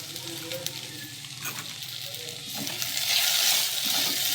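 Okra fries in a pan with ground turmeric added, a steady close sizzle and crackle that swells louder toward the end, with no talking.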